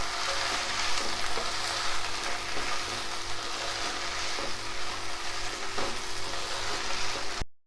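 Mint leaves fry in oil in a pan with a constant, fairly loud sizzle and occasional soft stirring clicks, alone with no voices, ending abruptly.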